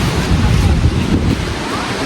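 Strong wind blows in a forest, making a loud, steady rumble that buffets the microphone for the whole stretch.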